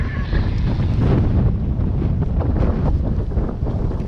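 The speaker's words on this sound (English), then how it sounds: "Damn, it's windy." Strong wind on an electric mountain bike ride buffets the microphone continuously, a loud rumbling gusty roar with no voices.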